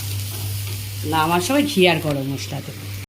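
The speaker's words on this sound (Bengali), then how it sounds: "এবার এটা নাড়তে নাড়তে তেলটা ছাড়বে।" Spice paste frying in oil in a pan, sweetened and later finished with ghee and garam masala, gives a steady close sizzle with a low hum under it while a voice talks over the stirring.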